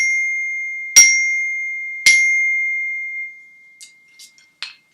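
Orchestra bells struck twice with a xylophone bell mallet, giving clear bell-like pings with sustained ringing tones, followed by a few faint light ticks and taps as the sound dies away.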